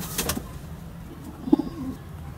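A pigeon gives a soft, brief coo midway through, faint against quiet background noise.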